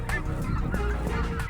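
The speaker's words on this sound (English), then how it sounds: "blues, specklebellies, and Canadian geese fill these Canadian skies each fall." Snow, blue, speckle-bellied and Canada geese call overhead in the fall Canadian sky. Several honks and cackles overlap in a rapid, busy chorus that sounds fairly close, with no talk.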